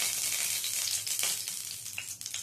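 Mustard oil sizzling steadily in a kadai for making Manchurian gravy, oil previously used to fry Manchurian balls; a close, continuous crackling hiss with small pops and no talking.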